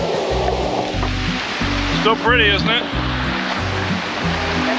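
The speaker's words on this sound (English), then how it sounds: "This is the Virgin River." Virgin River rushing along its course in Zion National Park, a steady broadband wash of flowing water heard close, with a low rhythmic mechanical hum underneath and a person talking briefly over it.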